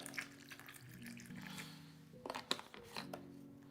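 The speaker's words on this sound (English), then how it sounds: "On the other side, we're gonna put some tap water." Tap water runs faintly onto tomatoes in a kitchen, a soft splashing trickle with a few small clicks and knocks near the end.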